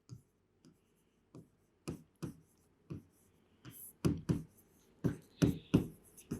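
Pen writing by hand on paper during a social studies class, a series of short scratchy strokes and taps in an irregular rhythm, close and quiet with silent gaps between.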